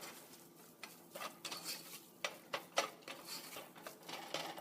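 Ginger garlic paste is stirred into onions cooking in a pan, with soft irregular scrapes and taps of a utensil against the pan over a faint sizzle, close and quiet.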